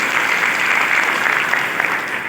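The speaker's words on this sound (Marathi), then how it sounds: "त्यांच्या जोरदार टाळ्या वाजून आपण सरकार करतो" An audience at a World Adivasi Day gathering in Hingoli breaks into sustained, even clapping, a dense wash of hands that holds steady throughout without any voices standing out.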